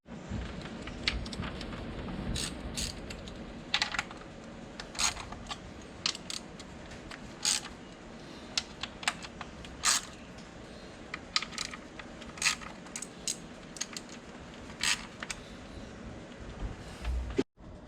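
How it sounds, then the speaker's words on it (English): Metallic clicks and ratchet-like ticks from 8mm bolts being loosened and removed from the valve cover of a 2005 Ford Ranger 2.3 engine, coming as irregular, close, sharp bursts over a low background hum. "Now there's gonna be a bunch of 8mm bolts to take off."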